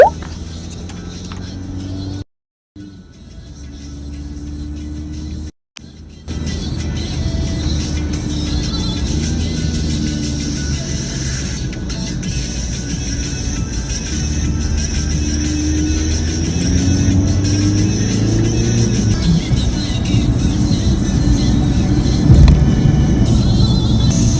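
A car driving fast on an open road gives a continuous cabin drone of engine and tire noise that builds gradually. Two short dropouts come early, and there is no speech.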